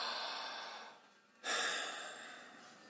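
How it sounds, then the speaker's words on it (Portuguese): A deep breath drawn in through a wide-open mouth during a breathing meditation, a rushing airy inhale that fades, pauses, then returns as a sharp, louder gasp tapering off. "Vocês escutam até o barulho que faz para tomar o ar"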